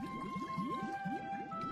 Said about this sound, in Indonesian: Paus raksasa